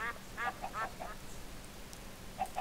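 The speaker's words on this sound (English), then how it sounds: "that is the loudest sound effect ever there, duck" A duck quacking in modded Minecraft, a wild west themed world, several quick nasal quacks in bursts at the start and again near the end, fairly faint over a steady low outdoor background.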